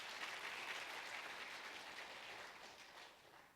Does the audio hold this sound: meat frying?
no